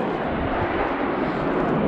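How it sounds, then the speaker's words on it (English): A jet aircraft roars overhead outdoors beside a parked travel trailer, a loud, steady broadband rumble that fills the whole stretch without a break. "we'll try to avoid the jet noise as we do it."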